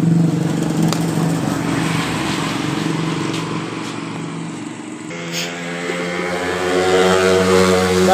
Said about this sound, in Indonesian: Motor ini langsamnya juga tidak stabil.